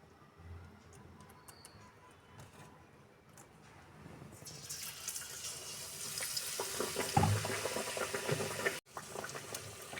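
Bread pakoras fry in hot oil, a soft hiss and bubbling that grows louder and denser partway through, with a light clink near the end.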